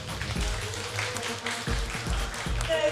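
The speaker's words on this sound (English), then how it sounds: "So big applause, please." Audience applause for an esports MVP interview at an LCK Summer match, a moderate, fairly distant clapping wash with low thumps mixed in, no voices over it.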